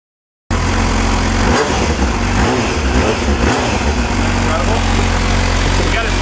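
A BMW V10 engine in a Dinan-tuned M6 fires up after a short silence, then runs loud and close with a deep, steady roar and rising revs.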